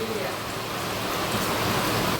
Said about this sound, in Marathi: लगेच पाऊस आला